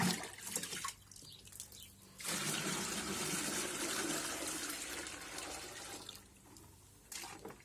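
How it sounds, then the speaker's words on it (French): Water pours steadily into a garden watering can, a loud continuous rushing fill with brief quieter gaps near the start and end. "On remplit son arrosoir."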